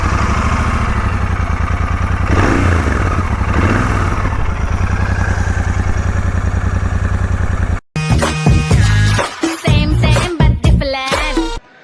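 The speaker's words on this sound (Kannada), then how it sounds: "ಬಾಕಿದು ನೆಕ್ಸ್ಟ್ ಈಗ ನಿಮಗೆ ಎಕ್ಸಾಸ್ಟ್ ನೋಟ್ ತೋರಿಸ್ತೀನಿ" A Royal Enfield Continental GT 650 motorcycle exhaust note: a loud, steady thumping idle runs close by for about eight seconds, then gives way to sharp, choppy throttle blips with short gaps between them.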